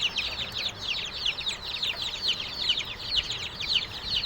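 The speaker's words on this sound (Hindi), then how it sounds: "आप देख सकते हैं छोटे चूजे लड़ाई कर रहे हैं।" Young Asil chicks about 20–25 days old fighting, giving a steady stream of rapid, high-pitched chirps and clucks that continue throughout, close and moderately loud over faint background noise.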